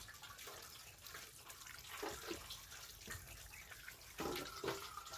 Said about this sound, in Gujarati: મેં પાણી ચાલુ કર્યું